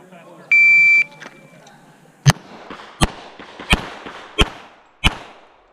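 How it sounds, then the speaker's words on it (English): A Sig Sauer 1911 pistol fires five sharp, loud shots at an IDPA match, evenly spaced under a second apart, after an electronic shot-timer beep, with faint background chatter. "this is gonna be 5 shots to the body, freestyle"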